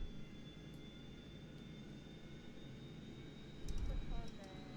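Jet engines on a simulated Boeing 737-200 in MetroJet colors drone steadily with a thin whine, then the rumble swells louder as thrust is added.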